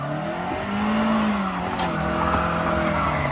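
An old beater car grinds through a ditch, its engine droning loud and close with shifting pitch and a strained, revving note throughout.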